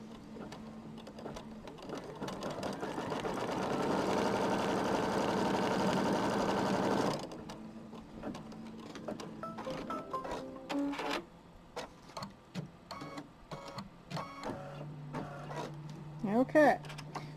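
An embroidery machine stitches placement and trimming lines, giving a steady, fast mechanical whirr for several seconds that then stops. Scattered clicks, handling noises and a person talking follow.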